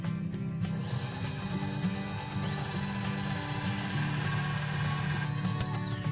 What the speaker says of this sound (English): we are going to start whisking it on low, and then you slowly want to increase the intensity until it looks like whipped cream